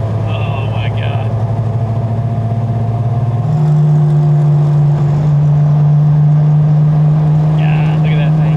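Menacing Porsche 930 Turbo on a night Tokyo highway run, its engine droning steadily at low pitch and stepping up in revs midway, loud and continuous, with a faint high whine at the start and end.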